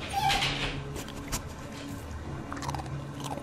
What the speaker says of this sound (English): It's not a very well trained dog.